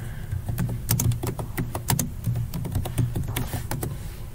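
Rapid clicking of computer keys as a terminal command is entered on a Linux machine, a steady run of sharp taps of even loudness, close and alone with no talk.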